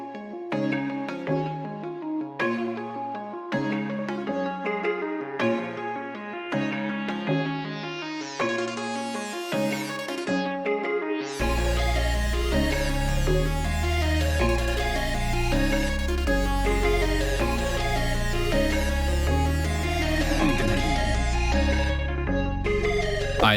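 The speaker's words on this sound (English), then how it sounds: "The sample sounds like this." A plucky hyperpop sample built from a Serum pluck patch plays a bright, bouncy melodic pattern, then a rising sweep leads into a fuller, louder section with deep bass underneath, steady and synthetic with no voices.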